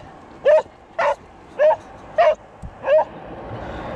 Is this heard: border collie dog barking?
yes